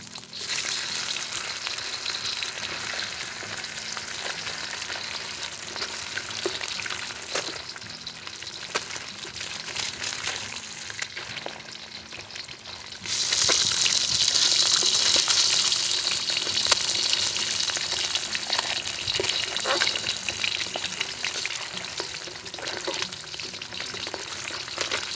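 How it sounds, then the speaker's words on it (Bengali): Rohu fish pieces frying in oil in a village kitchen, a close, continuous sizzle that swells louder partway through as the pieces crackle, with no speech. "মাছগুলো আমাদের একটু লাল করে ভেজে নিতে হবে।"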